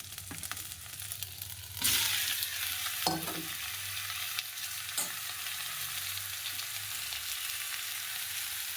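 Grated ginger, bay leaf and whole spices sizzle in hot oil in a pan, with a continuous soft frying hiss broken by a few sharp stirring clatters near the start and middle.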